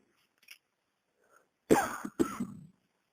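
Two sharp, harsh coughs in quick succession, close and fairly loud, after a couple of faint small sounds in near silence.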